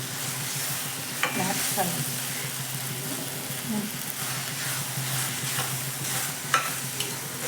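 Tomato cooking down in a pan gives a soft sizzle broken by scraping stirs and clinks, fairly quiet and close, with a brief spoken word.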